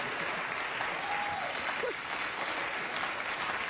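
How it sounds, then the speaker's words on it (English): A studio audience applauds in a steady, dense wash of clapping that holds for a few seconds at moderate distance, with no talking over it. "I don't know why you're applauding."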